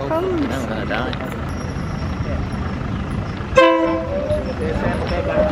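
A train rolls up on tracks laid down the middle of a Bangkok street, sounding a loud, close horn blast with strong harmonic tones amid steady rumble and street noise.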